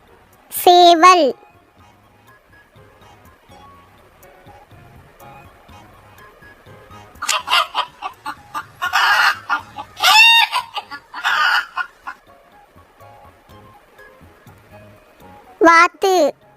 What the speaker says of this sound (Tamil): சேவல்.